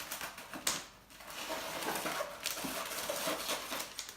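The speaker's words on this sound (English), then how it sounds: "take the cellophane off and then stick them in the vase" Cellophane wrapping pulled off a bunch of roses, a faint, close crinkling and rustling with scattered crackles, no talk.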